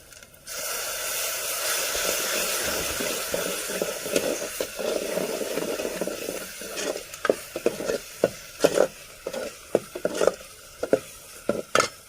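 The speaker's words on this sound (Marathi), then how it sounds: "तर आता आपला मसाला करपवण्यासाठी थोडं असं ही सपक पाणी टाकायचं ह्याच्यामध्ये" Water splashed into spiced masala frying in oil for a village-style vajdi (tripe) curry on a wood-fired chulha bursts into a loud steady sizzle and hiss, then settles into intermittent crackles and pops.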